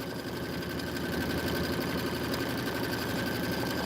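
A sewing machine stitching a quilt, running at a fast, steady motor whir with a continuous rapid needle clatter throughout, close and even in level.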